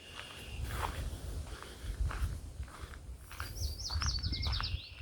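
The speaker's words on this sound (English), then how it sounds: "there's another thing to look out for. The red-winged blackbird." A red-winged blackbird calls with a rising, trilling burst late on, faint and distant over footsteps crunching along a nature reserve path.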